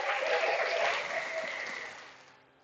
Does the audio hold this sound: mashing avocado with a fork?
no